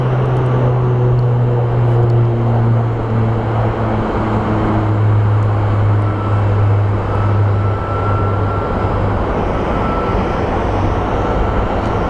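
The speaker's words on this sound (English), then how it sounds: "And here comes our Volaris A320." A Volaris Airbus A320 airliner rolls past at a busy airport, a loud, steady engine roar with a low droning hum that holds for the whole stretch and eases slightly toward the end.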